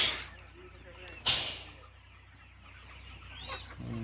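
Poultry at a large farm in Maharashtra, with a few sharp bursts and scattered faint clucks over a steady low mechanical hum, and a brief call near the end.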